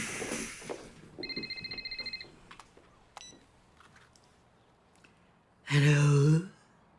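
A telephone in a home rings in short electronic bursts, fairly close and clear, followed by a louder harsh ring near the end, with quiet background between.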